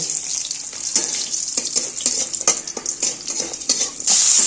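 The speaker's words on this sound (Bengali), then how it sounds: "এর মধ্যে এবার কটা বড়িও ভেজে নেব" Bori lentil dumplings frying in oil in a village-style kitchen, a loud continuous sizzle broken by repeated scrapes and clinks of a spatula, ending on a brighter, hissing surge.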